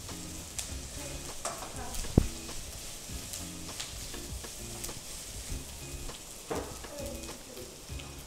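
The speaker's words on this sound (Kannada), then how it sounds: "ಆಮೇಲೆ 2 ಚಮಚ ಎಣ್ಣೆ ನೀರುಳ್ಳಿ ಸ್ವಲ್ಪ ಗೋಲ್ಡನ್ ಬ್ರೌನ್ ಆಗುವ ತನಕ ಫ್ರೈ ಮಾಡುವ" Chopped onions sizzle and crackle in a couple of spoonfuls of hot oil on a gas stove, frying toward golden brown, with a steady close hiss and repeated soft stirring scrapes throughout.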